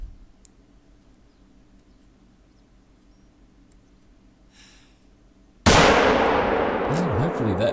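A single loud rifle shot at a bison in theHunter: Call of the Wild cracks out sharply after a long quiet stretch, its blast and echo filling the remaining seconds with a broad, rumbling decay.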